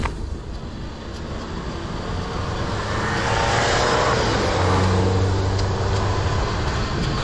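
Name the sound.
car passing during e-bike night ride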